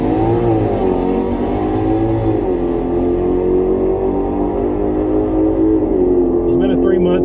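A drag racing car at a street car event launched off the foot brake, its engine held loud and steady near by with rising and falling pitch, a brief crackle near the end.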